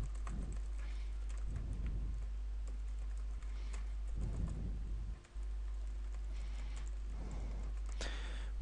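Keys clatter on a computer keyboard while C code is typed, soft quick bursts of tapping in irregular clusters, close and fairly quiet against a low steady hum.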